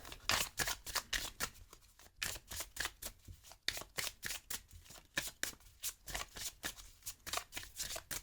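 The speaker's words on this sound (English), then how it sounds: "I'm gonna spread your cards" Oracle cards from a Wiccan oracle deck are shuffled and spread across a table, making a steady run of crisp, close riffling flicks and slides in quick rhythmic bursts for several seconds, with no talking.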